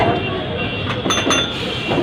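A Kolkata tram runs on its rails from Dharmatala toward Gariahat, a continuous rumbling ride with brief metallic rattles and squeaks rising in the middle, heard from on board.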